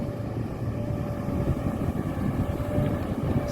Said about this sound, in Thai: ความแผดความกระหึ่มนี่มีมาถึงนี่เลย สุดยอดของคุมพลังหกสูบต้องยกให้รุ่นนี้นะครับ